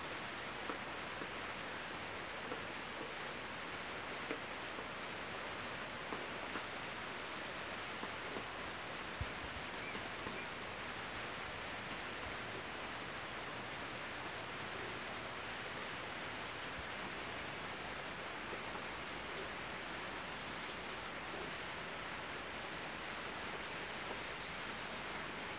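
Steady rain falling over the countryside, a dense even hiss of drops that continues without a break, fairly faint and unbroken by voices.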